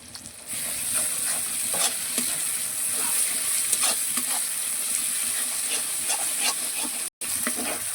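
Ginger paste sizzles in hot oil in a pan, a bright continuous hiss close by, with repeated scraping stirs and light utensil taps throughout and a brief dropout near the end.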